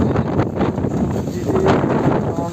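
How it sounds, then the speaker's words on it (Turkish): Strong outdoor wind buffeting close against the microphone, a loud, steady roaring rush with gusty swells across the whole moment. "burası muazzam şu an esiyor"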